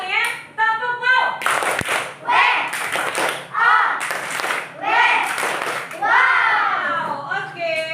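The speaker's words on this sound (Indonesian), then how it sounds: "Iya, tepuk tangan." Children clap in a classroom, bursts of hand claps mixed with chanting voices and a sharp thump, close and lively, with kids' speech running throughout.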